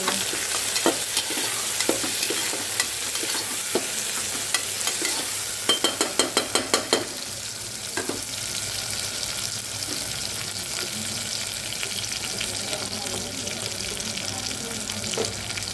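Food frying in a pan is stirred and mixed steadily, with a constant sizzle and a few sharp scraping clicks of the spoon against the pan, heard up close with no talking.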